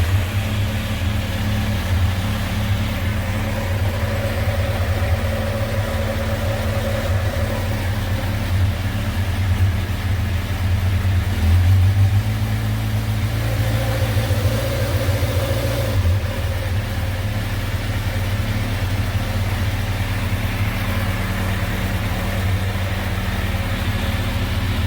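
A motorcycle, apparently replacing a KTM Duke 390, idles with a steady low rumble throughout, close and fairly loud, with no clear start-up burst visible.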